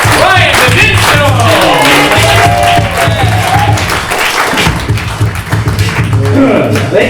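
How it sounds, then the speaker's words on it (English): An audience at a comedy show builds a slow clap of rhythmic hand claps over a low steady thumping, with a voice talking loudly over the clapping crowd. "let's get a slow clap going"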